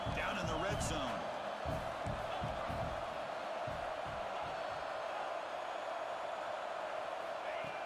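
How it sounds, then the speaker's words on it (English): Stadium crowd roaring steadily in a college football video game as the defense lines up in the red zone, a continuous loud wash of cheering with rhythmic thumps and a commentator talking over it. "the crowd coming to life here, trying to help this defense down in the red zone"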